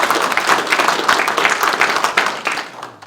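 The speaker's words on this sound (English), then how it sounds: "You can clap now, even though they're not here." Brief burst of hearty clapping from members at a Lagonda car club annual general meeting, steady and fairly close for about three seconds before tapering off.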